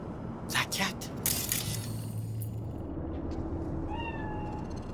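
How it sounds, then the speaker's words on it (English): Cat meowing in the game Cyberpunk 2077, a short rising mew and a couple of thin cries near the end, fairly faint under a low ambient city hum after some earlier clattering. "Do you see it? The cat?"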